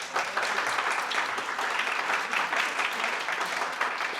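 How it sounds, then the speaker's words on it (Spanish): Church congregation applauding steadily and loudly throughout, a dense wash of many hands clapping with no pauses and no speech. "puedes aplaudir si deseas."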